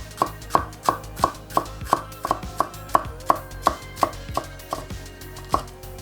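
A knife julienne-cuts onions and peppers for fajitas on a board, giving about fifteen crisp, evenly spaced chops close up with no talking.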